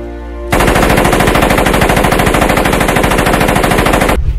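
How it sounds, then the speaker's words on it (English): Thompson submachine gun, the Tommy gun, firing one long sustained automatic burst in a movie scene, loud and close, a rapid even stream of shots lasting several seconds with no talk over it. "pulls the trigger of the Thompson submachine gun, also known as the Tommy gun"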